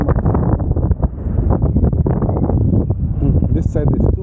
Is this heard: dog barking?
no